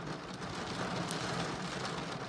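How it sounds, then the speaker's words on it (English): Hail pelts a parked car outside a Lidl supermarket, a dense, steady patter on the body heard from inside the car, fairly loud with no voices. "We've just got to Lidl's and it's actually hailing, so we're not getting out of the car."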